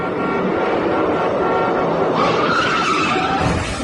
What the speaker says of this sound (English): the scream of tires on the road as a car chases a train